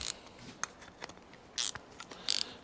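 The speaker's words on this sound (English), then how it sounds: "Let me get a 10mm ring spanner." A 10mm ring spanner works on the idle screw of a cheap supermarket lawnmower's carburettor, giving a few short metallic clicks and bursts of ratcheting scrapes, close and without talking.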